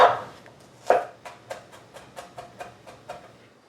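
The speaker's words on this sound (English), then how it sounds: "finely chop 3 cloves of garlic" A knife chops garlic cloves on a cutting board in a quick series of about a dozen crisp, evenly spaced taps, close up with no talk.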